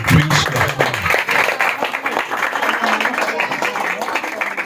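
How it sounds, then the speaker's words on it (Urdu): A church congregation gives loud, sustained applause to welcome the Christmas month, dense clapping from a crowd filling the room with a voice audible over it. "میں چاہوں گا اس منتھ کو ہم زوردار تالیوں کے ساتھ ویلکم کریں"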